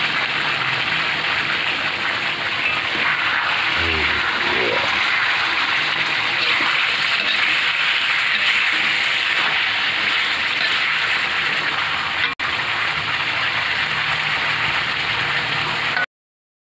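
Jengkol beans boiling in a pot of water make a steady, close hiss of bubbling and churning with a faint rolling texture, continuous and fairly loud until it cuts off at the end.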